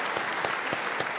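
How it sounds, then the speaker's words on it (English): Scattered audience applause at the State of the Union, a brief patch of crowd clapping with a few distinct louder claps standing out at regular intervals as the ovation winds down. "We just clap for this."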